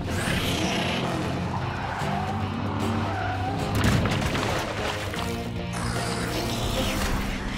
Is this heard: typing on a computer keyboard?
no